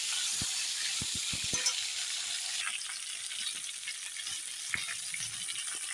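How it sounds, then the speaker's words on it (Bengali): Eggplant pieces fry in oil with a soft, steady sizzle, quiet and continuous, broken by a few sharp clicks of utensils near the start. "এখন আমি বেগুনটা ভেজে নিই"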